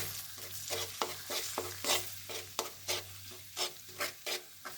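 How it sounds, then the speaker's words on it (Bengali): An egg frying in a pan beside spiced boiled potatoes, with repeated scraping and stirring strokes over a steady sizzle, close and moderately loud, no talking. "ডিমটা ভাজা হয়ে গেলে"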